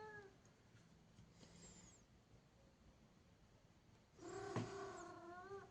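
A young pet cat meows twice indoors, a faint short call first and then a louder, longer, wavering meow close by, against a quiet room.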